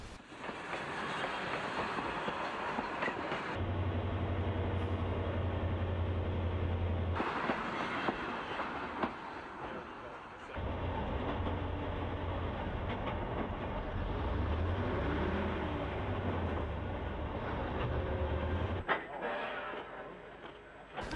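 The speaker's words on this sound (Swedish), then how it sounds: "ser vi ett ankommande tåg från Bursvik med kreatursvagnar, draget av GJ-lok 10 eller 11" An arriving Gotland Railway train of cattle wagons, hauled by a GJ locomotive, rumbles and clatters past at a distance, its low engine drone rising and falling, with metallic rattling from the wagons; no one speaks.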